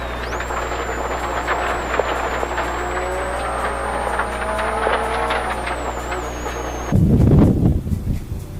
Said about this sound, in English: Ardo and Mary Olakongis right there, absolutely crushing it in their Subaru WRX.